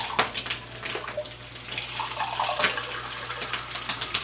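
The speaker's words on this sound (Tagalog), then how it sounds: "Lagyan natin ng isang basong tubig" Water pours into a cooking pot of sizzling ground pork, a faint splashing, gurgling stream lasting several seconds over a low steady hum.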